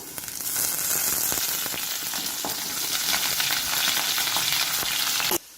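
Washed curry leaves hit hot oil in a pan with onions for a village-style dry fish curry, a loud, steady crackling sizzle with a few stirring scrapes that cuts off abruptly at the end.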